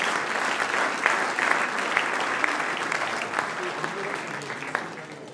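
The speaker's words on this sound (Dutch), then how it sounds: "Daarvoor mag best een applaus gegeven worden." Steady applause from a crowd honouring the Raad van Elf at a carnival prince installation, dense and sustained throughout with a few sharper individual claps standing out, fairly close and without speech over it.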